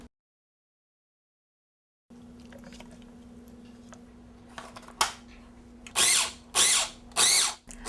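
An electric food processor pulses sweet potato and extra firm tofu in several short bursts, each a loud whirring buzz separated by brief pauses, after a quieter stretch of faint kitchen clatter.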